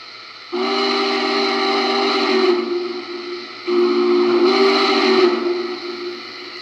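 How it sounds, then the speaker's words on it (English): Two long, loud J-class steam whistle blasts from a Lionel Legacy model locomotive, steady and close, each held for a few seconds with a short gap between. "That's the J-class whistle."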